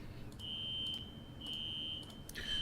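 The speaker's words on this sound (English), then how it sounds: "That is the fire alarm in my condo going off." A condo smoke alarm sounds in loud, piercing beeps. Three long steady tones repeat at an even pace over low room rumble, with a fresh beep starting at the end.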